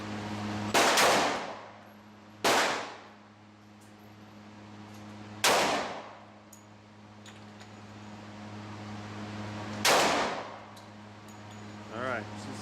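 A 10mm caliber pistol fires four sharp shots outdoors, spaced several seconds apart, each a loud crack with a quick echoing tail over a faint steady hum.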